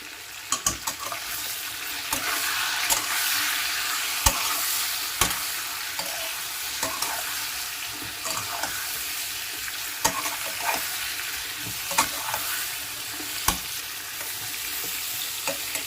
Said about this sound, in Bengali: এই পটলটা ভাজতে আমার 5 থেকে 7 মিনিট সময় লাগবে।